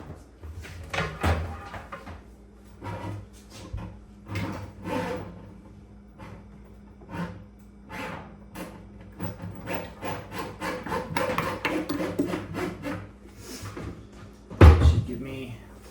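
A water supply hose for an ice maker being fed through pre-drilled holes in a wooden cabinet, giving intermittent rubbing, scraping and knocking against wood, close up, with a louder clunk near the end.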